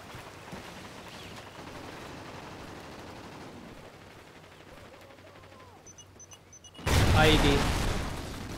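A loud IED blast from an automatic C4 in Call of Duty: Ghosts Cranked mode on Xbox One bursts in near the end, a sudden broadband boom that lingers, after quieter game ambience and faint chatter.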